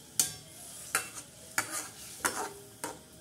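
Bombay duck (bombil) fish frying in a pan, five sharp stirring or scraping knocks at a steady pace over a soft sizzle, close and fairly quiet with no talk.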